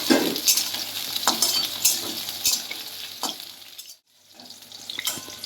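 Pointed gourd pieces frying in a pan for a Bengali mixed-vegetable curry: close, steady sizzle broken by repeated spatula stirs, with a short near-silent gap before the frying resumes.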